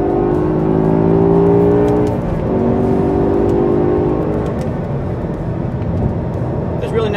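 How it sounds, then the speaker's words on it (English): A 2008 BMW M5 accelerates at highway speed beside a tractor-trailer, its engine note rising in a smooth revving sweep over loud road and wind roar, heard from inside the car. "even when you're at speed, it's got pickup"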